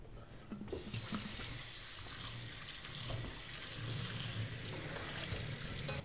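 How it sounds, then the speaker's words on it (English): Cold tap water runs steadily over cooked celery and vegetables in a kitchen sink, a continuous broad hiss and splatter that starts after a brief quiet moment and keeps going at an even, close level. "I'm gonna run this under cold water so it stops the cooking process."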